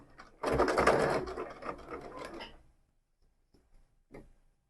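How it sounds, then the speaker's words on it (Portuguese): Domestic sewing machine stitching a bag lining slowly, beginning with a backstitch: a dense mechanical whir runs for about two seconds, then stops, followed by a few faint taps and one short burst near the end. "Retrocesso no início da costura."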